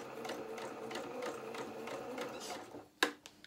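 A sewing machine runs steadily, stitching a doll's cap in a beginner sewalong, the motor humming in close, even pulses before stopping with a couple of sharp clicks near the end.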